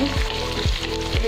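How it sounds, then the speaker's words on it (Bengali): Thickly cut onions sizzle in hot oil in a pan while being stirred for a chickpea curry, giving a close, steady frying hiss with soft rhythmic scrapes from the spoon and no talk. "পেঁয়াজটাকে আমি বেশি ভাজা করবো না, সামান্য একটু নরম হলে হচ্ছে"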